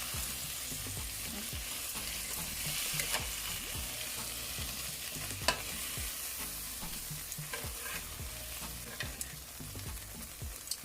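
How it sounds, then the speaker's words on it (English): Chicken breast sizzles steadily in a hot pan, a dense continuous fry broken by frequent soft clicks and scrapes of stirring or turning, close and fairly loud with no talking. "I'm just gonna remove them and put them over here for a little bit"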